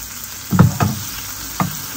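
Tomatoes cooking in a pan on a stove, with short bursts of frying sizzle and stirring at a close distance, three distinct surges over a quiet background hiss.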